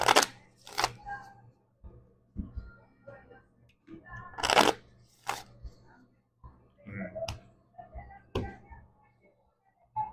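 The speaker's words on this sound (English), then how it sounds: "Here they even let you shuffle." Playing cards shuffled by hand at a beachside Ultimate Texas Hold'em table, in short crisp riffling bursts with pauses between, fairly close and quiet.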